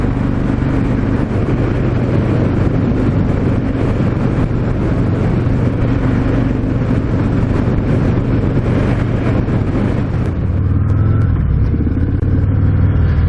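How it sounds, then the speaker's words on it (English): A 2019 Harley-Davidson FXDR 114 motorcycle accelerating onto a freeway at speed, its engine a steady low rumble heavily mixed with loud wind rush across the microphone, rising in pitch toward the end. "114 accelerates up onto the freeway effortlessly"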